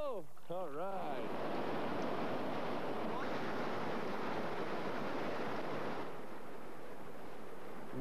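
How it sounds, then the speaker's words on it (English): Whitewater rapids on a river below a tame lake rush in a broad steady roar for several seconds, loud and close, with a brief voice at the start. "Oh, there's some whitewater"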